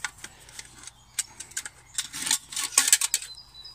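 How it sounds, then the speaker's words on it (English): Pieces of an oval aluminium Swedish Army mess kit, including a cup and frying pan, are handled up close, giving light metallic clinks, taps and rattles in quick irregular bursts. "Here you got the Swedish Army mess kit. It's aluminium,"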